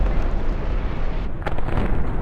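Tank gunfire and explosions in the War Thunder game, with a KV-2 nearby: a steady, loud rumble of distant booms and blasts, plus a sharper burst about halfway through.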